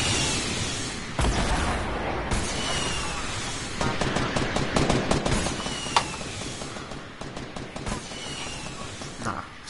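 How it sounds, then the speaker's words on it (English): Rockets and weapons firing in the video game Fortnite, dense bursts of rapid gunfire-like cracks and booming blasts that overlap in a continuous loud barrage. "Somebody's shooting rockets."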